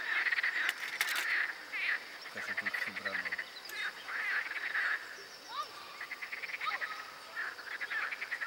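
Repeated croaking calls from frogs out in the open, some rising chirps among them, fairly faint over a steady background hiss with a few splashy thuds.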